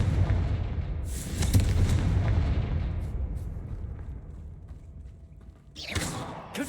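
Confringo blasting-spell explosions in Hogwarts Legacy, a deep rumbling boom that rolls and fades over several seconds, followed by a fresh sharper blast near the end.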